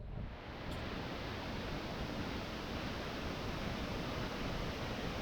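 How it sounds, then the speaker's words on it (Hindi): Randha waterfall in the Western Ghats at Bhandardara, a loud, unbroken roar of rushing water, broad and constant from start to finish. "रंदा वाटरफॉल"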